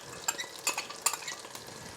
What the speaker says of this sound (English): it's in the oil and it's starting to foam, then it's time to add your shallots, which we'll add now